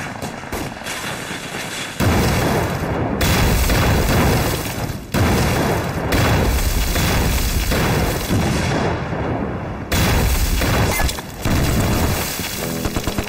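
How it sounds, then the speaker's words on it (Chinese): Heavy gunfire roars in a wartime battle scene, with dense, loud bursts that run almost continuously and break only for a few short pauses. "枪声啊！"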